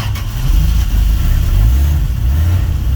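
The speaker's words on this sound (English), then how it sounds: "Was idling." A D100 engine idles after a cold start, heard from the passenger seat: a steady, loud low rumble with a slightly uneven throb that runs through the whole stretch, with no talking.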